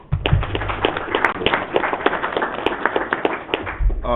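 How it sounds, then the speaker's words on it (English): An audience at a football press conference for a Mississippi coaches' all-star game applauds, loud crisp claps from a modest crowd close to the microphone for about four seconds, ending with a low thump. "I just think this guy deserves a round of applause"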